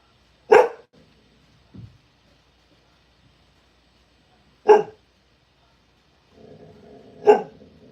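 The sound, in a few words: border collie dog barking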